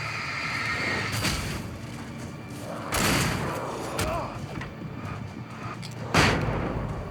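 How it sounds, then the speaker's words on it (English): A flashbang detonates in the video game Alan Wake, one of several loud broadband bursts breaking through game noise at close range, with a sharp blast near the end. "I had the wrong flashbang going out."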